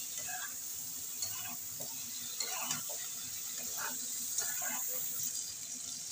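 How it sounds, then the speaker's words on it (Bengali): Fish and potatoes sautéing with chilli powder and spices in a pan, a steady soft sizzle with intermittent scrapes and stirring clinks throughout, fairly quiet and close. "মশলার সঙ্গে একটু কষিয়ে নেব।"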